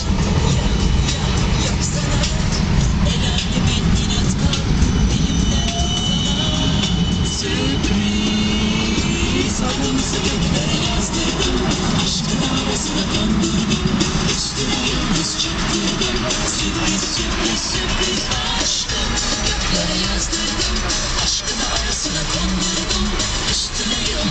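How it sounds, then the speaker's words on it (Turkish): A new tram rolls along a busy street in downtown Budapest amid a steady roar of traffic, with faint voices mixed into the constant rumble. "Bu gayet yeni bir tramvay"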